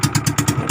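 Motorcycle engine firing up, with quick rhythmic pulses and clattery thumps repeating about every tenth of a second in a brief, close burst; no talking.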